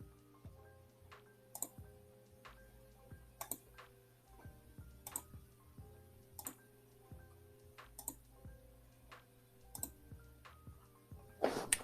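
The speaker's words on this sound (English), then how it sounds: "I'm just clicking random things here." Sharp, quiet computer mouse clicks come in irregular single and double taps over a low hum, close by and isolated, with no talking.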